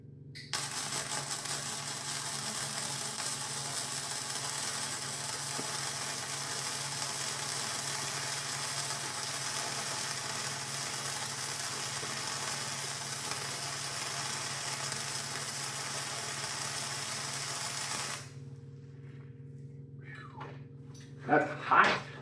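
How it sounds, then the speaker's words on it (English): Stick welding with a Sefaspe MIG 205DS welder gives a steady, crackling hiss that runs unbroken for about eighteen seconds, then cuts off, leaving a quieter hum and a few brief clatters. "Welding."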